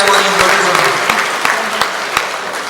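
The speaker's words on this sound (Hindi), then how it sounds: "आपकी तालियां मुझे बताएंगी" An audience at an Inverex Power Wall battery presentation in Pakistan claps steadily, a dense wash of applause with a few sharper individual claps standing out.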